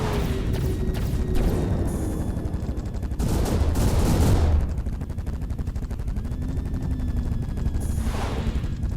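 Straight-firing rockets launch in the Directive: Intercept video game, rapid bursts of loud firing repeating in clusters over a steady engine drone, with a voice talking in between.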